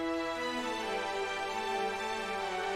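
Sustained synth pad chords with a bright, string-like tone, holding steady and smooth throughout with no gaps.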